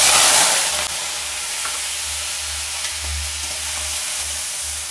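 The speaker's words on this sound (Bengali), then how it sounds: "এটাকে আমি ভালো একটু হালকা করে ভেজে নেব" Washed, cut prawns frying in a pan with whole cumin, giving a loud, steady hiss and sizzle that starts with a sharp burst as they go in, then settles to an even crackle.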